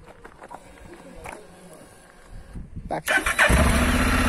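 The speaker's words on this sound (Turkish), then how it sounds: "Şimdi çalıştıralım motoru." A Honda NC750X DCT motorcycle engine cranks and catches, then settles into a steady, loud idle close by, following a short spoken word.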